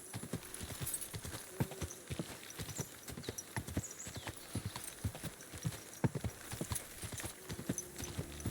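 Horse hooves clip-clopping at a steady walking rhythm in Kingdom Come: Deliverance II, fairly quiet with a soft background ambience and a faint whinny.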